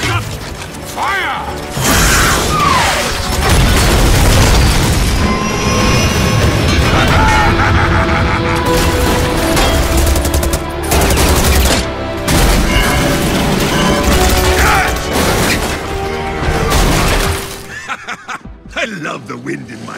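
Rocket launch and explosions in an Overwatch cinematic, a dense, loud, continuous barrage of booms, mechanical clanks and crashes with a score, while voices shout over it before the din thins out near the end.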